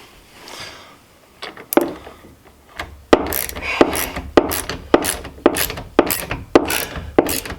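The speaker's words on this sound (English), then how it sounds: "We're going to use a wrench. I use like 11 mil." Ratcheting clicks from an 11 mm wrench snugging a bolt during a TruXedo ProX 15 tonneau cover install on a 2021 Jeep Gladiator Rubicon; a few scattered clicks, then a steady run of close, sharp ratchet strokes, no talk.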